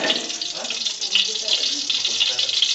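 Ghee sizzles in a hot pan while cooking Kerala-style kuzhi mandhi, a steady bright hiss holding for the whole stretch at moderate level with no clear voice over it.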